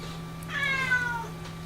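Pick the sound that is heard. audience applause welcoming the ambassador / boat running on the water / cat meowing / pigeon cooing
cat meowing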